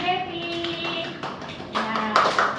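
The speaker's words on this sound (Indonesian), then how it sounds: "Boleh tepuk tangan untuk Devi" Scattered hand claps from a classroom during a chemical bonding lesson, light and uneven, with voices talking over them.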